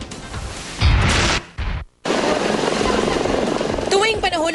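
A Philippine Air Force Sokol helicopter gives a loud, steady rotor and engine roar, broken by a brief cut, with a news report voice in the mix.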